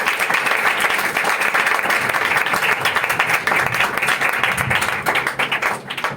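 A church congregation at a Christian sermon bursts into loud, sustained applause, dense clapping filling the hall evenly for several seconds before tapering slightly at the end.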